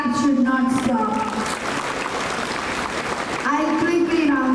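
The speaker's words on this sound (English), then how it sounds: "Please give him a round of applause." An audience at a school annual prize-giving ceremony claps for a student, a brief burst of applause swelling between stretches of a speaker's voice at the start and end.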